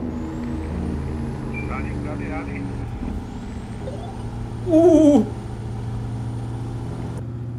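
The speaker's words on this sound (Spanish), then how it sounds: "Es una maravilla cómo suena ese camión" Freightliner truck engine in a truck-driving game, a steady low diesel drone running throughout, with a brief louder whine and hiss near the end and someone speaking briefly over it.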